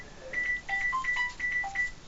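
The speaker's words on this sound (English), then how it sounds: "And there goes my phone." A mobile phone gives a short notification: a series of clear electronic beeps alternating between two pitches in a quick, regular pattern. It plays quietly and alone, with no talk over it.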